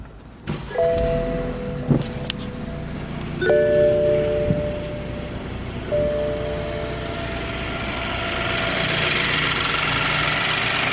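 A 2014 BMW 428i xDrive with a 4-cylinder engine starts up and idles with a steady close rumble, a few tonal chimes sounding over it early on, then the engine note rises slightly toward the end.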